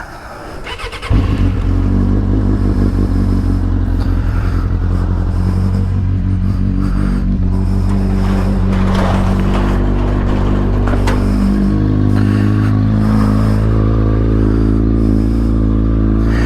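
A Honda XR100R small off-road motorcycle engine cold-starting after a rebuild, catching after a brief crank and then running steadily with a loud, close, rattly idle and a few throttle blips, no talking.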